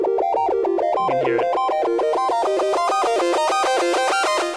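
An Ableton MELD synth patch plays a steady electronic tone whose waveform is slowly swept by a gentle LFO from smooth sine toward buzzy square, growing brighter and harsher over several seconds, with a brief spoken remark early on.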